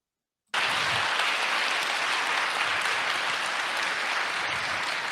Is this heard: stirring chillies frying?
no